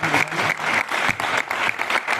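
An audience applauds for Chhavi, a young girl who has just spoken at a public event held by the Deputy Commissioner of Bhiwani; dense, steady clapping fills the whole stretch, close and fairly loud with slight swells.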